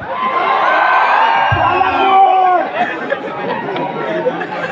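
A college crowd at Sinhagad College shouts and cheers together, a loud dense roar of voices with whoops rising over the hubbub, then thinning into scattered chatter.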